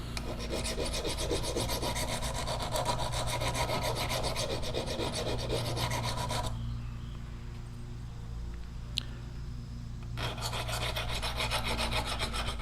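A steel file rasps across Zwickey and Simmons traditional single-bevel broadheads in steady rapid strokes, then stops for a few seconds and resumes, loud and close.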